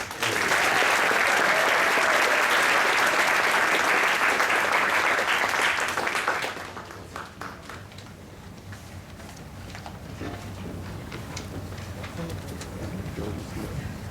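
Applause at a military awards ceremony for national-level award recipients, a loud, sustained crowd clapping for about six seconds that then drops away to a quiet room with scattered faint sounds and low murmuring.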